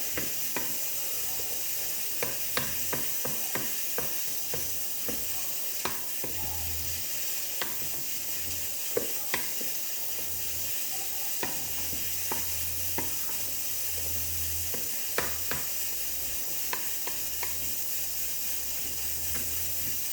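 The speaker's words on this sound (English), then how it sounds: "Stir it in." Homemade salsa is stirred in a pot over a low simmering hiss and sizzle, with scattered light clicks and scrapes of the spoon recurring across the stretch, close but fairly soft, and no one speaking.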